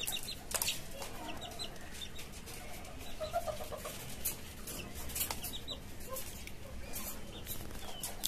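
Native chickens and chicks in a cage farm cluck and peep softly, with scattered brief calls over a steady low background hum, faint and somewhat distant.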